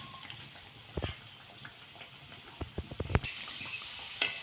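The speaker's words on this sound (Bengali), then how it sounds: "আর এগুলো ভাজতে হবে একদম ধিমে আঁচে।" Tiffin snacks fry in oil over a low flame, giving a steady soft sizzle broken by a few louder crackles and pops close by, with no talking.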